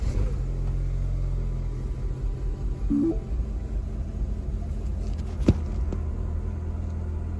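A cheap used car engine, just reassembled after repair, idles roughly with a steady low rumble and uneven throbbing, close and loud, with a brief sharp clank partway through.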